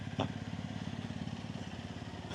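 A Suzuki Hayabusa motorcycle engine runs with a steady, rapid low pulsing throb, close and moderately loud, with a brief sharp click near the start and no talking.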